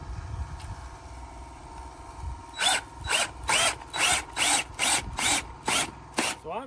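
A power drill drives screws into steel frame bracing on a firewood shed, giving about eight short, loud bursts in a steady rhythm after a quieter stretch of low background noise.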